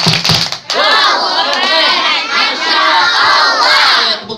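Children at a Maulid celebration loudly shouting the tepuk anak soleh clapping chant together, a sustained group chant in unison with claps mixed in, close and energetic.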